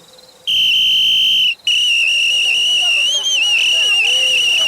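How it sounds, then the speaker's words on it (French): A whistle is blown to raise the alarm against thieves, two long shrill piercing blasts, loud and close, the second one wavering. "il saisit son sifflet posé au chevet de son lit"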